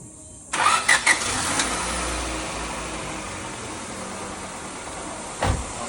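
A car engine cranks and catches after its distributor cap was cleaned, firing up with a few loud sputters before settling into a steady close idle, with one brief bump near the end.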